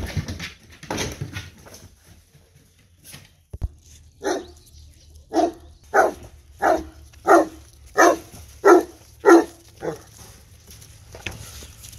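Farm dogs barking outdoors, a burst of mixed barks early on, then a steady run of about eight loud, evenly spaced single barks close by, with no talk over them.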